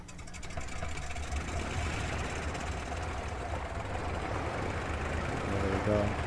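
Engines start up and settle into a steady running drone, a continuous low rumble with a rough, knocking texture that holds evenly and swells slightly near the end, with no talk over it.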